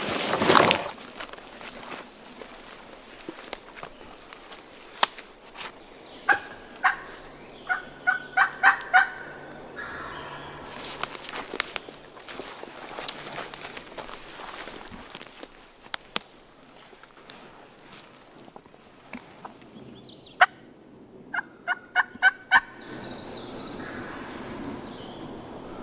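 A wild turkey gobbles repeatedly in Alabama woodland, each gobble a quick rattling burst of notes rising from faint background ambience, some far off and a few closer and louder, with soft footsteps and rustling scattered throughout.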